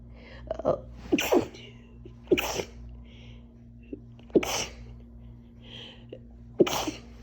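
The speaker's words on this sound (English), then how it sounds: "Please don't sneeze." Several sharp allergy sneezes burst out one after another, spaced a second or two apart, close by in a quiet room with a low steady hum.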